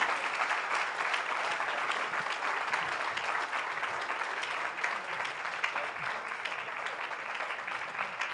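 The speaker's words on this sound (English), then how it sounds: "Give him a big round of applause." An audience at an Arkansas auctioneer championship breaks into sustained applause, a dense, steady wash of clapping that runs on evenly without pause.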